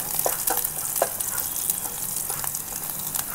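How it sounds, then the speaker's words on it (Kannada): Green chillies frying in oil in a pan with a steady, close sizzle and crackle throughout, with a few light stirring scrapes and no talking. "ಫ್ರೈ ಮಾಡ್ತೀನಿ ಜಸ್ಟು ಮೆಣಸಿನ್ಕಾಯಿ ಜಸ್ಟ್ ಫ್ರೈ ಮಾಡಿದ್ರೆ ಸಾಕಷ್ಟೇ. ಸ್ವಲ್ಪ ಆಯಿಲಲ್ಲಿ ಹಾಕ್ಬಿಟ್ಟು"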